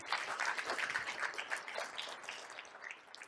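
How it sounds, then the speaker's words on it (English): Round of applause for volunteers and organizers at a speaking event, a crowd clapping steadily at a moderate, somewhat distant level, tapering slightly toward the end. "give a big round of applause to the volunteers and the organization"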